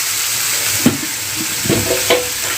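Cut potatoes tipped into a hot pan and stirred, a steady loud sizzle of frying with a few scraping stir strokes, no voice.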